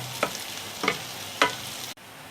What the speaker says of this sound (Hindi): अभी करी पत्ते को अच्छे से भुनेंगे इसके अंदर